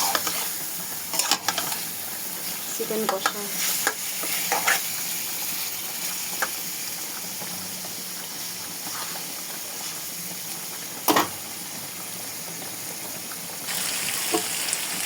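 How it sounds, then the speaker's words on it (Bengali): Continuous sizzling and hissing of chicken frying in oil with no water, with occasional clinks of stirring, fairly steady and close. "কষিয়ে নিচ্ছি মাংসটা রান্নাই হবে তেলের উপরে কোনো পানি দেওয়া হবে না"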